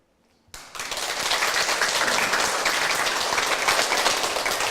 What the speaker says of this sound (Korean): 이제 우리가 박수로 함께 청해 듣도록